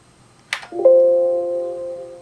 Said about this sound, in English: it rings the bell in Windows, which apparently is through Teraterm